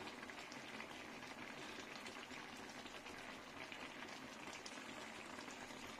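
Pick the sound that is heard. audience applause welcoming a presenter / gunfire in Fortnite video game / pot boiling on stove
pot boiling on stove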